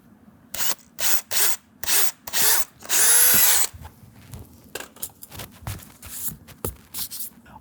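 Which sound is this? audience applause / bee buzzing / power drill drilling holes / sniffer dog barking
power drill drilling holes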